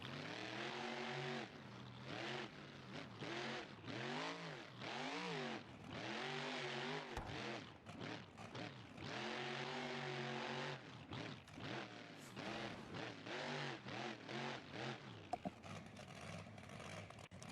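Gravedigger monster truck engine in the BeamNG Drive video game, loud and close, revving up and down repeatedly through long sweeping swells with brief drops between throttle pulls, ending in rougher idle-like rumbling.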